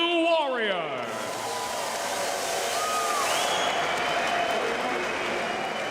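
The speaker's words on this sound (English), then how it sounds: "let's have a round of applause for these 2 warriors." A bare-knuckle fight crowd in Birmingham applauds the two fighters, a sustained wash of clapping and crowd noise that rises after a ring announcer's voice fades and carries on to the end.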